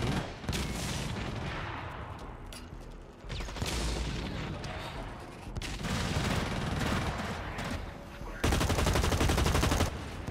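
Gunfire from a weapon in the shooter game Blacklight Retribution, heard as loud rapid automatic bursts in several stretches, with brief pauses between them and game sounds underneath.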